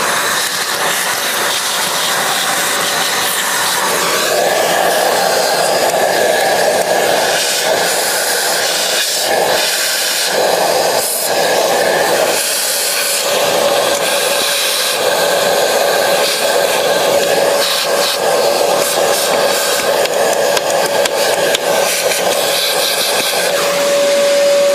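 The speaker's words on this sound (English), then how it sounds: "take a shop vac and vacuum out the residual beans and junk" A shop vacuum runs steadily, drawing leftover beans and debris out of a Macap M4 coffee grinder, with a loud continuous whine, a sustained tone and rattling bursts as material is pulled through.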